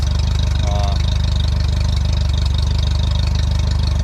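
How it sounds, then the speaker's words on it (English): A 2019 Mercury 50hp outboard motor runs steadily on a hose at close range, a continuous mechanical drone with a rapid low pulsing throughout and no clear revving. "seems to be running pretty good right here on the hose. It revs up good."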